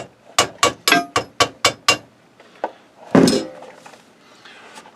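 Hammer chipping slag off a flux core weld on a custom chopper build: seven sharp metallic strikes in quick succession, then a pause and a few scattered knocks, loud and close, with no talk.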